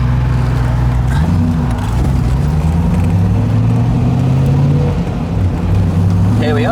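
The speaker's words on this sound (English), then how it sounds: "as soon as this traffic passes" Road traffic passes close by a parked car during setup on the road, a steady loud engine drone with rising and falling tones as vehicles go by, continuous throughout with no speech.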